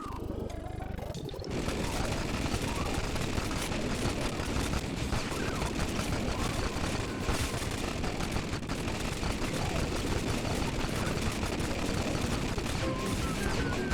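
Turret fire in the Wii game DeFenDin' Da Penguin pours out in a dense, unbroken stream of rapid shots, loud and steady for many seconds after a brief quieter start.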